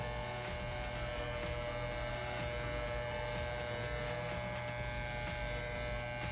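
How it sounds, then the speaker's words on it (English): Electric hair clippers, set with a half guard for a men's high-and-tight cut, give off a loud, steady close-up buzz with a constant hum that lasts throughout without a break. "So I have my clippers, my wall clippers"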